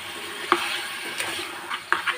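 Potatoes being stirred with salt in a frying pan, soft sizzling underneath with a few scraping clinks of a spoon against the pan.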